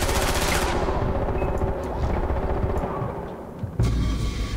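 Gunfire from the video game Far Cry 4 starts with a burst of loud, rapid shots, trails into a ringing tail, and ends with another sharp crack near the end. No one talks over it.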